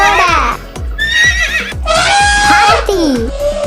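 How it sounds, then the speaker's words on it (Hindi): A horse whinnies repeatedly over several seconds, loud and close, with high wavering neighs rising and falling over a steady rhythmic low pulse of background music. "घोड़ा"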